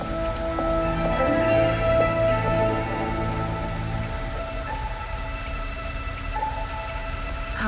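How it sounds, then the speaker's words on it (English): A steam locomotive rolls along with a continuous mechanical rumble and rhythmic rattling, fairly loud and steady throughout, with faint tonal whines over it and no voices. "Today, I see the locomotive."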